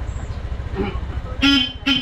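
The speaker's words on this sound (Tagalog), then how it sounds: "Papatingnan na rin natin yung busina" Two short, loud motorcycle horn honks sound close by, the first longer than the second, over a low rumble of an idling engine.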